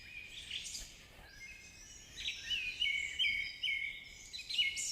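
Birds singing outdoors, several chirps and warbling phrases overlapping at moderate distance, growing busier toward the end over a quiet background, no talk.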